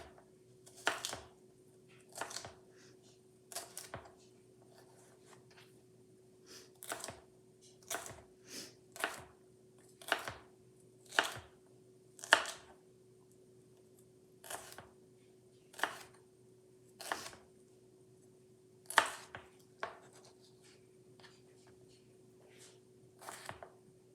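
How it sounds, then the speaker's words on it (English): A knife julienning vegetables laid skin side down on a cutting board gives a long run of crisp, close chops against the board, coming singly and in quick bursts with short pauses and no talk. "I'm going to julienne all of them."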